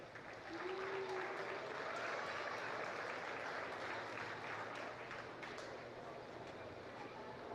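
Sustained applause from an audience at a county fair livestock arena after a Charolais heifer class, a dense steady patter filling the space throughout.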